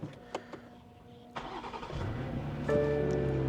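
A car engine with a weak battery cranks and catches, then settles into a steady idle; a few clicks come before it turns over, moderately loud and near, at an auction lot.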